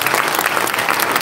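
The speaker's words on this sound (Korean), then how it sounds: "우리 성가대에게도 박수를 쳐드리고 우리 회장님께 한번 박수 쳐드리고" Brief burst of dense, steady clapping from a church congregation at a memorial worship service, loud and close, filling the whole moment with no voice over it.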